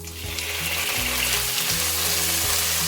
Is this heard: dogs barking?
no